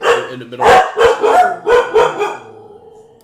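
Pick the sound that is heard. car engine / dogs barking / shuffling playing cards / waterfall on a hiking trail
dogs barking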